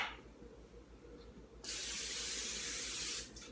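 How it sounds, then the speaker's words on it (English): A steady aerosol cooking spray hisses onto a cookie sheet for about a second and a half, loud and close, after a quiet stretch with faint background noise. "you're going to get a cookie sheet, and you're going to want to spray that down"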